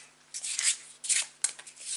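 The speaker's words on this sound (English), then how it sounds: "now is the time to take a couple of deep breaths whilst I shuffle the deck." A tarot card deck being shuffled close by, in a series of soft riffling bursts with short pauses between them, quiet and with no voice over them.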